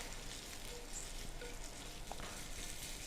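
Sausage fries softly in browning butter in a pan, giving a faint, steady sizzle with small crackles and no talking.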